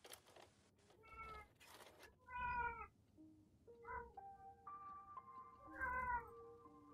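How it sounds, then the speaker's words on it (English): A cat meows several times in a row, close and fairly clear, each call rising and falling, with faint background sounds between them and no talking. "Apparently my cat has something to say about this."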